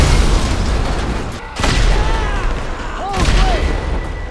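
Loud booming blasts and bursts of gunfire rumble through a gang termination mission in the video game GTA Online. The dense, heavy fire surges again around the midpoint and near the end, with no voices over it.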